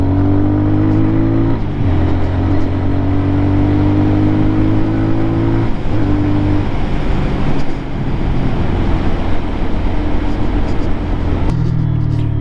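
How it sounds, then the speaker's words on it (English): Lifan KPM 200 motorcycle, new and being run in, with its engine rising in pitch, then dropping on downshifts and revving back up in a loud, continuous ride recording with wind and road noise. "You gotta be careful when you downshift and bring the RPMs up like that."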